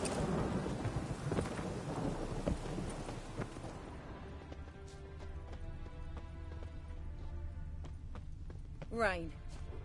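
Rain and rolling thunder in the video game The Witcher 3: a dense downpour roar dominates the first seconds, then thins to a softer steady rain under game ambience, with a brief rising effect near the end.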